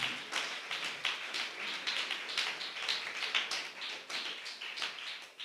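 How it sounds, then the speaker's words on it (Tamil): Church congregation clapping hands together in thanksgiving, a dense, steady patter of many palms that swells and dips in waves, filling the room with no voices over it. "நல்ல கைத்தட்டி ஆண்டவருக்கு நன்றியை சொல்லிடுவோம்."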